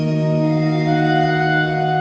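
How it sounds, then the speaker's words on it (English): Darkstar side of an Old Blood Noise Darklight pedal: a sustained, shimmering chord of ambient tones holding steady with gentle wavering, no attack or break throughout. "The Darkstar side is going to sound like this"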